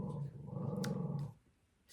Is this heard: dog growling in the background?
yes